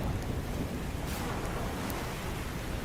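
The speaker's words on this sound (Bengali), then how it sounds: "তারপরই শুরু হলো তুমুল ঝড় বৃষ্টি।" A cartoon storm effect of howling wind and heavy rain roars as a dense, constant rush of noise, with no voices over it.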